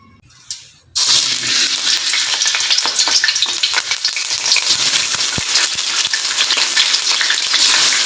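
Food sizzles loudly in hot oil in a pan while sambal goang is being cooked. After a second of quiet it bursts into a dense, crackling fry with scattered pops, close and continuous.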